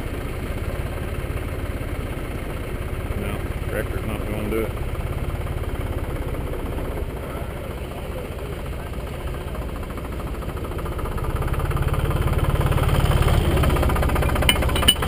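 Tractor engine running steadily outdoors while a Tenex Tec rope splice is tested under pull, a continuous rough low rumble with knocking texture that grows slightly louder near the end.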